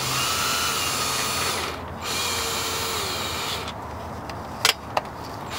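A power drill removing bolts from a salvage C5 Corvette whirs steadily at close range, pausing briefly before resuming, then gives way to a few sharp metallic clicks.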